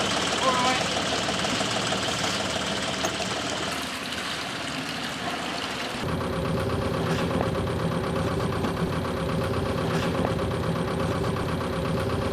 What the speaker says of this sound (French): les entrées-sorties se font avec le moteur.